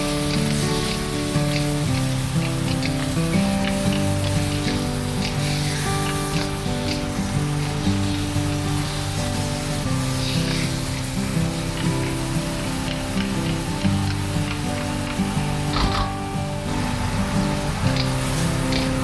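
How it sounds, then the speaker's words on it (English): Chicken adobo with bay leaves and peppercorns sautéing in a pan, a dense, steady sizzle running loud and unbroken at close range, with occasional stirring clatter. "So just continue to saute and mix up the ingredients."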